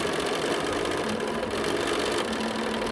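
A sewing machine runs steadily as it stitches a seam in a star quilt block, a continuous close, even motor hum with no pauses for about three seconds.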